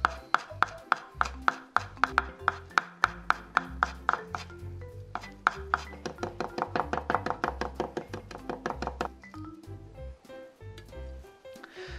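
Green onion is finely minced with a knife on a board, giving fast, sharp, evenly spaced chopping taps that keep up for several seconds, close and clear with no talking.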